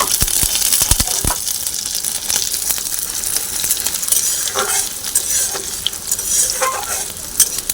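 Sliced onion frying in a pan for a leafy greens dish, with a steady broadband sizzle throughout and sharp clinks of a spatula stirring near the start.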